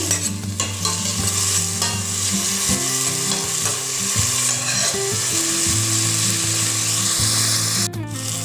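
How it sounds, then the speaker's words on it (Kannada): Ginger and tomato frying in a pan for a fish curry, a loud continuous sizzle with busy stirring and scraping throughout, no talking. "ಒಂದು ತುಂಡು ಶುಂಠಿಯನ್ನು ಇದಕ್ಕೆ ಹಾಕ್ತೀನಿ ಸ್ವಲ್ಪ ಇದು ಫ್ರೈ ಆಗಲಿ"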